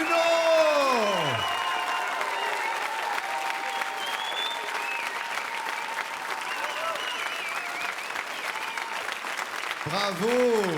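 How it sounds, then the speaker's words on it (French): A warm studio audience at a French TV family music show applauds steadily and loudly throughout, a dense sustained wash of clapping with sung or spoken voices rising briefly at the start and end. "Ça fait plaisir ce public, hein, chaud qui applaudit."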